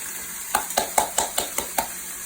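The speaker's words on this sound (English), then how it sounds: "And you're going to want to saute this until it's translucent." Chopped onions and garlic sautéing in vegetable oil in a pan, with about eight evenly spaced clinks and scrapes of a utensil stirring against the pan over a faint sizzle.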